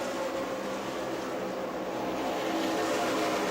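Race cars roaring around the oval at Music City Motorplex in Nashville, Tennessee, during a CRA Super Series event, a dense, steady engine drone that stays loud and even throughout with no talk.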